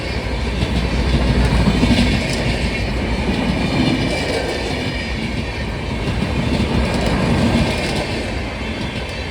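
A train runs along a railway line, a steady loud rumble with rhythmic clickety-clack of wheels over the track joints throughout, with no voices present.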